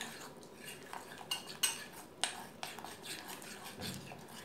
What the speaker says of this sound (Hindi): मैदे को अच्छे से घोल लें ताकि गुठलियाँ ना रहें।